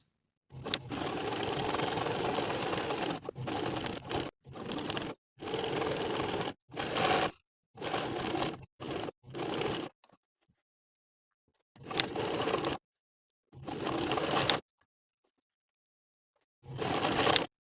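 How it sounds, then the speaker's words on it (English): A sewing machine edge stitches along the top and bottom of a kangaroo pocket on a cozy winter sweater, running in close, steady bursts with short pauses, then longer gaps between the final runs. "We're going to edge stitch along the top and bottom of the pocket"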